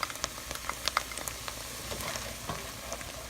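Garlic and vegetables for jambalaya sizzle softly in a pan as they cook down, a steady quiet frying hiss dotted with small pops and crackles.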